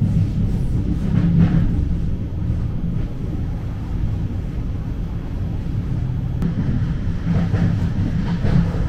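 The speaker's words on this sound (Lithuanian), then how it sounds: "Na ir dabar važiuoju tuo traukiniu į Vilnių." Steady low rumble of a moving passenger train on the ride to Vilnius, a continuous rolling drone with faint clatter and a brief knock midway, no talk.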